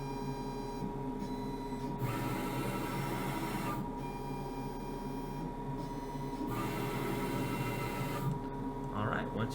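A CNC circuit-board mill homing its Z axis gives a steady mechanical hum and whine with bursts of higher stepper-motor buzz that start and stop several times, under a person talking.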